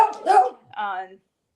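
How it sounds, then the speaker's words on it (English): A dog barks indoors, giving two short barks in quick succession, the second more drawn-out and tonal, fairly close and then fading to silence. "Sorry, the dog."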